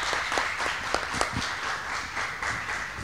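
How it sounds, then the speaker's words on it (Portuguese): Audience applause at an architecture debate in a museum, steady mid-level clapping from a group with a few sharper individual claps standing out. "eu vou pedir uma salva de palmas aqui para todos os comentaristas"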